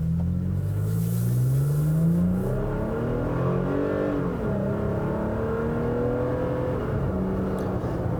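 A 2017 Toyota Tacoma TRD Pro's 278-horsepower V6 revs through a TRD Sport exhaust, a loud, steady, deep engine drone rising and falling in pitch over several seconds without talk.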